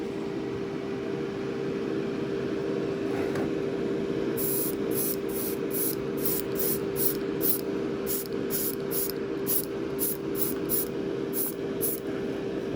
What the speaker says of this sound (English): I'm going to be applying this with the airbrush